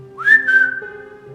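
A single rising human whistle in an abandoned hospital holds a steady, clear tone for about half a second, loud and close, over a faint low hum.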